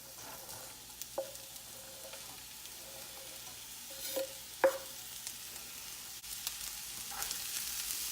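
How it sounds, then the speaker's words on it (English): Onions and peppers sizzling in a heated pan, a quiet steady fry with a few light clinks and stirring sounds, and no one talking. "now we're gonna add our onions"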